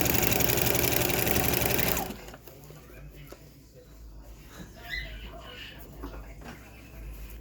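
A sewing machine stitches fabric bummies, its motor whirring loudly and steadily for about two seconds before stopping, followed by quieter handling noises.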